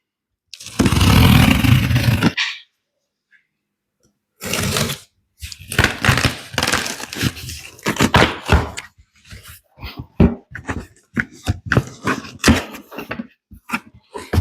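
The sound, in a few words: unpacking braided hose fitting kit from packaging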